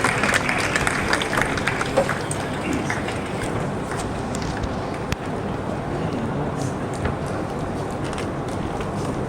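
Dense, continuous applause fills the hall at an environmental award ceremony at a university, a steady wash of many hands clapping throughout with little variation.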